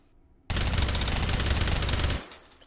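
A suppressed FAMAS carbine in H3VR fires one continuous full-auto burst of under two seconds, a dense, muffled rattle that stops abruptly, followed by a faint mechanical tail.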